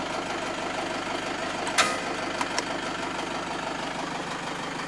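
A 2006 Toyota Commuter D-4D diesel van engine idles with a steady low rumble and fine rhythmic knock, one brief click standing out midway.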